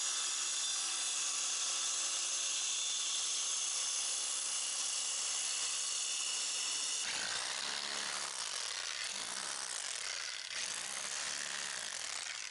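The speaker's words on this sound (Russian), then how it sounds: "Для начала отпилил концы лак так, чтобы к ним можно было закрепить ступеньку, и пошел пилить 6 метров бетона." Power saw cutting through concrete for a terrace step, a loud continuous grinding whine that holds steady, then turns rougher with rhythmic surging as the blade works through the slab.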